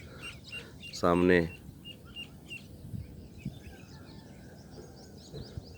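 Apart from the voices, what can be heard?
birds chirping softly in the village in the morning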